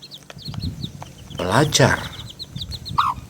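Chickens cluck in short, high bursts through the clip, joined by a louder chattering flurry near the middle, with a voice speaking briefly over them.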